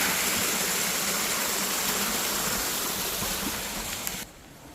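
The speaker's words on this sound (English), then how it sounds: "Another creek crossing here." Steady rushing of a flowing creek, close and continuous, cutting off abruptly near the end.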